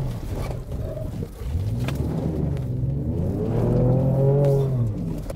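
Ford Ranger Raptor driven off-road, its Fox suspension soaking up bumps while the engine rumbles and rises and falls in pitch, a steady close drone with no talk.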